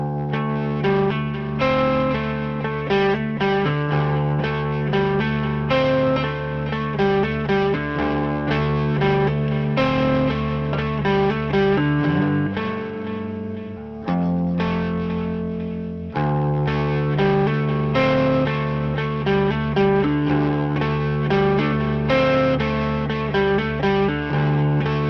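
Electric guitar plays ambient riffs through Revalver 5 amp modelling with chorus and reverb, sustained chords and picked notes ringing in a wide stereo field, with a brief pause midway before playing resumes.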